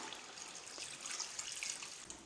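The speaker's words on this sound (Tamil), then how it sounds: "குழம்புக்கு தேவையான அளவுக்கு தண்ணி கொஞ்சமாக இப்போ சேர்த்துக்கலாம்." Water poured into a pot of simmering meat and radish curry makes a steady, close splashing and trickling rush that lasts the whole moment without pause.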